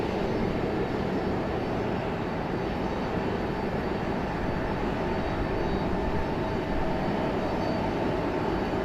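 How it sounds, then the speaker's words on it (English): US Airways jet airliner in retro livery at Raleigh-Durham International Airport, a constant broadband engine rumble and roar close by, steady throughout. "Little retrojet action happening here. US Airways Retro making an appearance."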